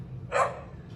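A single dog bark, loud and close, short and sharp, with low room rumble before and after and a faint second sound near the end.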